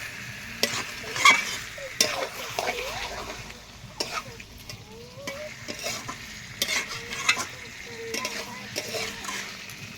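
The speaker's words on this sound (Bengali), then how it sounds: "বারবার নেড়ে চেড়ে কষিয়ে নেব।" Coriander chicken curry sizzles and fries in a pan while a spoon stirs and scrapes it repeatedly, a steady close crackle with occasional utensil knocks.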